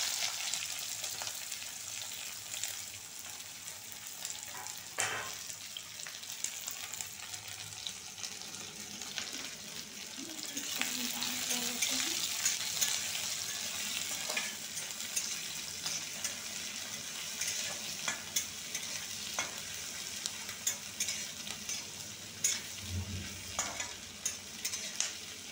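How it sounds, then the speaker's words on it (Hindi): Onions fry in a pan for aloo and parwal sabzi, a continuous moderate sizzle with occasional stirring scrapes and small clicks, steady and close throughout without speech. "प्याज भून जा रहा है"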